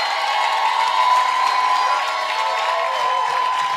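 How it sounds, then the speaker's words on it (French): A church congregation in Calgary applauds and cheers for their pastor, with steady dense clapping and crowd voices filling the whole stretch at a constant loud level. "Applaudissez pour lui."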